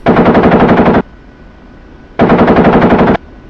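Two bursts of rapid .50 caliber machine gun fire from an OH-58D Kiowa Warrior helicopter in the DCS flight simulator, each about a second long, loud and close, with a low engine hum between them.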